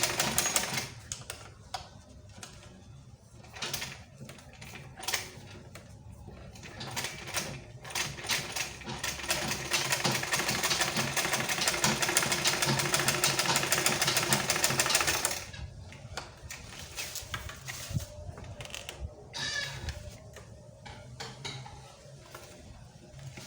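A sewing machine runs a top stitch along a fabric lunch bag with foam padding, a steady mechanical whirr holding for about ten seconds, broken by shorter bursts and stops, with some light handling noise around it.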